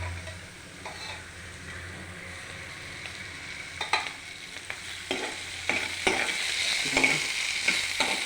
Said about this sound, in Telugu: తెల్లగడ్డ బాగా వేగిన తర్వాత